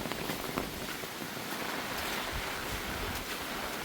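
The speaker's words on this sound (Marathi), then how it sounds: "तुफान पाऊस आला एकदम." Heavy rain pours down steadily over a village in the Konkan region near Vaibhavwadi, a dense, even hiss of downpour with close drops, continuous and loud, with no voices.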